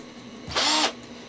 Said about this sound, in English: and we're going to drill two holes.